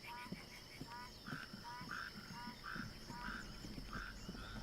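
Frogs croak in the Piccabeen Bay area of the hunting game theHunter Classic, a steady chorus of rhythmic, repeated croaks over a quiet background hum.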